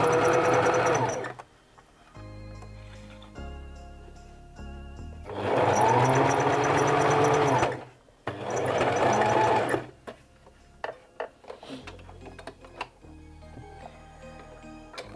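A serger with its left needle removed stitches in three runs of rapid mechanical whirring, with quiet ticking and handling noises in the pauses between them.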